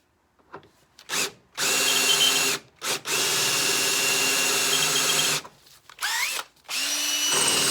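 Power drill boring a pilot hole on a 1955 Buick Special during a trunk-mount battery install, several close, loud whining runs with short stops and a falling spin-down near the end.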